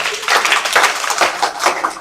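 Classroom clapping for a student's weekly test score, a short burst of fairly close, dense handclaps lasting a couple of seconds with no talk over it.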